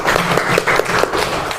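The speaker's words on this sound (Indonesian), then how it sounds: "Oke, tepuk tangan buat Najla." A classroom of students claps for a classmate during a guidance lesson, a short burst of steady applause that is fairly loud and fills the room.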